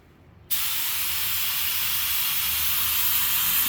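Spray gun blasting thinned automotive paint, a sudden steady broadband hiss that starts abruptly after a quiet moment and continues loud and close without a break.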